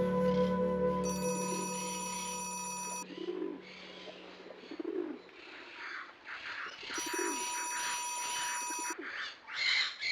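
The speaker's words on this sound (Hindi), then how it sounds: "अरे देखो कॉल आ रही है, उठाओ फोन" An incoming-call ringtone on a phone in a Pakistani drama scene rings in two bright, tonal bursts separated by a few seconds, with softer background sounds filling the gap.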